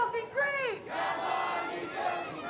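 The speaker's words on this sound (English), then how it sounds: "They never stop cheering, no matter what the score, no matter what the scenario." Western Core supporters at an A-League football match between Western United and Adelaide United, a dense crowd roar with rising chant-like tones, loud and continuous throughout.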